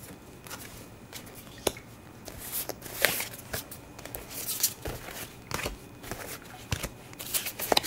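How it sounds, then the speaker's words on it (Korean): Tarot cards being shuffled and drawn, a run of soft papery riffles, slides and taps at close range with irregular bursts, no voices. "두 장의 카드를 뽑아보겠습니다"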